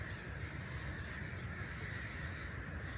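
Raucous black-headed gull calls fill the air continuously, a dense chorus of harsh cries from many birds at moderate distance, steady throughout, at RSPB St Aidan's nature reserve.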